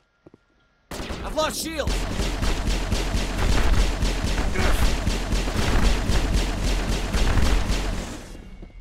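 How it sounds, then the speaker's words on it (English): Sustained assault rifle fire in the Mass Effect video game, a rapid, rhythmic stream of loud, close shots after a brief silence, with a voice calling out over the gunfire. "you are using your assault rifle"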